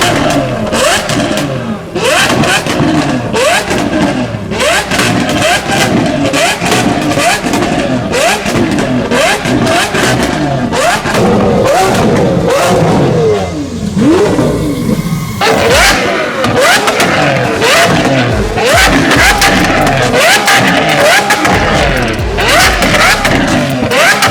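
A Liberty Walk Ferrari 458 revs loudly and continuously nearby in a busy street setting, with repeated engine surges and crowd noise, plus a dog barking and voices mixed in.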